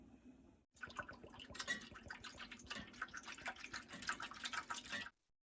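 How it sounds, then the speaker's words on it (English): Boiling water poured into a pan around egg crocks for baked eggs with bacon and Gruyère, a steady close trickling and splashing pour lasting several seconds, beginning and stopping abruptly. "we're going to pour the boiling water into the pan, just about a half an inch to an inch."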